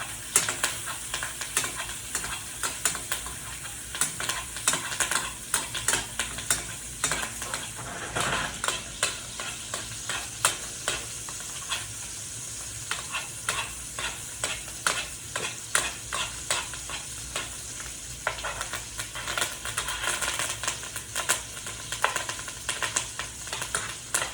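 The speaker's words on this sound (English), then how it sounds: "Now when the steak is cooking, we'll take this butter, push it around, and we're going to start basting our steak" A steak fries in a pan while melted butter is spooned over it, giving a steady, close sizzle broken by frequent sharp clicks and scrapes of a spoon against the pan.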